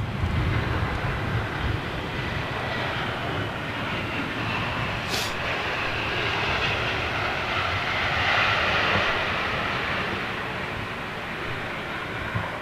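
Lufthansa Airbus A321 in old retro livery, a steady, fairly loud broadband engine roar that holds evenly throughout with no pauses, like a jet passing or taxiing at moderate distance.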